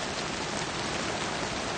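Artificial rain on a film set pours in a dense, even hiss that stays at a constant loudness throughout, with no voices over it.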